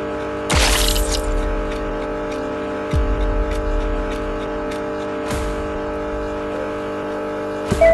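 A car driving in the horror game Garten of Banban: a steady engine drone with a humming tonal layer, broken by a few sharp bursts and thumps, with no talking.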